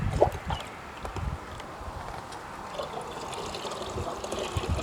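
Water is poured into a garden fertilizer mix being diluted for vegetables, a soft steady trickle and splash heard close by over a low outdoor background, with one brief sharper splash near the start.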